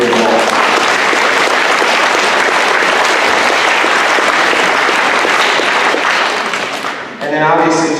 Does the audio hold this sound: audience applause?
yes